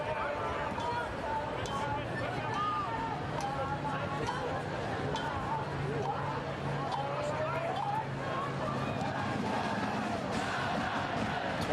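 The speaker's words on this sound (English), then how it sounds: "With that crowd in the background jumping up and down." Soccer crowd at Fitzpatrick Stadium during the Portland Hearts of Pine versus Greenville Triumph SC match, a dense, steady roar of chatter and cheering from a distance, running continuously beneath a commentator's voice.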